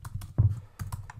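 Typing on a computer keyboard, a few close, crisp key clicks in an uneven rhythm, one louder thump midway, with no voices.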